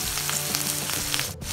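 Eggplant sautéing in a pan for a Filipino ginisang talong, a constant loud close sizzle and crackle of frying with faint stirring, no voices.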